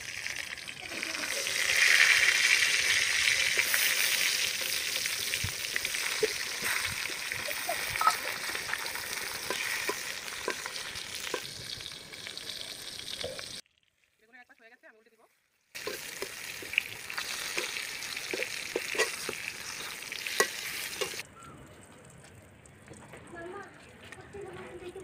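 Vegetable khichdi ingredients sizzle and fry in hot oil while being stirred, a steady loud crackle with scraping stir strokes, cut by a brief pause, with a voice talking over part of it.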